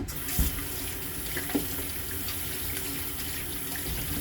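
Water runs steadily from a tap into a sink while hands are rinsed between hair-product applications, a continuous close hiss with a couple of brief splashes early on.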